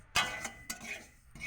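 A spoon stirs salted food in a cooking pan, making a few close, uneven scrapes and clinks over about a second and a half, with no talking.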